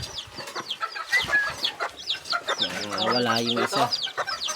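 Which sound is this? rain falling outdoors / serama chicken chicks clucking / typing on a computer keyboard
serama chicken chicks clucking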